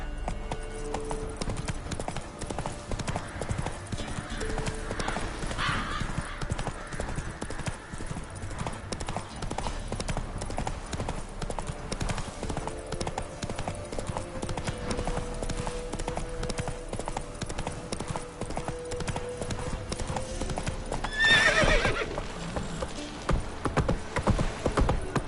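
Fast, continuous hoofbeats of the horse Roach galloping in The Witcher 3, a steady clip-clop rhythm up close with a brief whinny and scattered game sounds over a low background.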